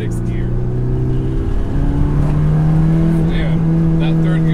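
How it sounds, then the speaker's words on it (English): A modified Porsche 944 Turbo accelerates hard in third gear, a loud, steady engine drone climbing in pitch with turbo whoosh, heard from inside the car with a voice speaking over it. "that 3rd gear pull right there, strong. The turbo kicks"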